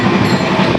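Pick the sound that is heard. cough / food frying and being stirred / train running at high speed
train running at high speed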